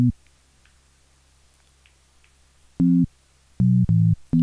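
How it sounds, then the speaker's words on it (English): Sine wave tones from a Woovebox synthesizer oscillator, a steady low pitched hum sounding in four short separate bursts after a quiet start, heard alone with no talking. "So now we have a sine wave and there's different kinds."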